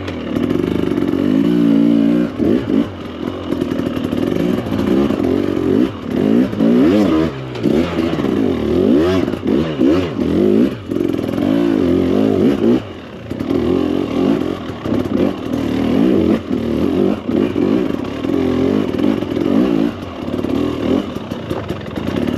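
A 2024 Husqvarna TE300 Pro dirt bike engine revs and pulls in first gear while riding uphill, a loud, continuous raspy two-stroke drone rising and falling with throttle changes, close and steady throughout.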